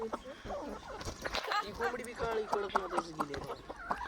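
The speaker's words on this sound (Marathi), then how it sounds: "ही कोंबडा कडकनाथ सोबत मिक्स झालेला आहे" A village yard rooster, a cross between a Kadaknath and a desi chicken, clucks and calls repeatedly at moderate distance while people talk over it.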